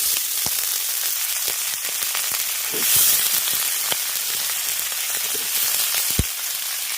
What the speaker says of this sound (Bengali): এবার পেঁয়াজ কলিটাকে আগে ভালো করে ভেজে নিতে